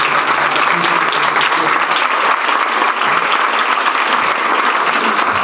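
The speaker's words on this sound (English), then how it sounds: "How about a round of applause for Tim" An audience at a youth apprenticeship summit breaks into sustained, even applause, a dense close wash of clapping hands that carries on without a pause.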